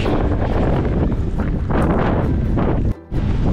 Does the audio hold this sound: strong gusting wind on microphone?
yes